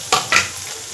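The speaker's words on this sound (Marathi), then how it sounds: "याचा कलर चेंज होईपर्यंत परतवायची आहे" A paste is sautéed in hot oil in a pan, two quick stirring scrapes over a continuous close sizzle, with no talking.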